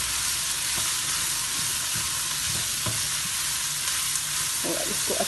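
Cabbage and mixed vegetables with peas sizzling in a pan, a steady loud hiss of frying with soft scraping strokes of a spoon stirring through it.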